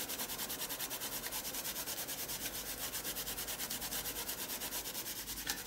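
Steady, rhythmic rubbing over layered paint on a mixed media art journal page: a quiet scratchy back-and-forth with even strokes that carries on without any talk.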